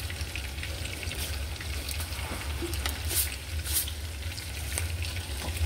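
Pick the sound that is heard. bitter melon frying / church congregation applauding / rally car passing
bitter melon frying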